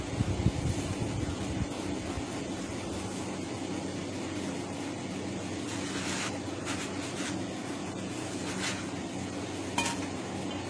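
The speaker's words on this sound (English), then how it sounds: "Yeah, my skillet's a little too hot right now." A homemade tortilla cooks on an overheated skillet, giving a steady low sizzle and crackle close by, with a few faint clinks of cookware near the end and no talking.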